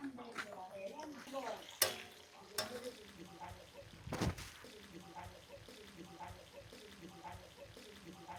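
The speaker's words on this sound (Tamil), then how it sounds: "இப்போ சிக்கன் வெந்துட்டுருக்கு." Chicken pieces for a homemade burger cook in a pan in an outdoor country kitchen, giving a soft, steady sizzle with occasional clinks and scrapes under people talking.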